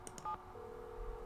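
Touch-tone keypad beeps as a phone number is dialed in the Nancy Drew game Secret of the Scarlet Hand, a few quick tones followed by a steady line tone, clear and close with no talk.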